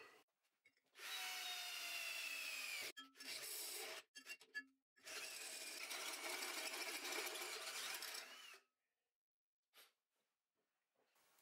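A power drill with a hole-cutting bit cuts a circle in an oil filter in long, harsh bursts with short pauses between, then falls quiet apart from a few faint knocks.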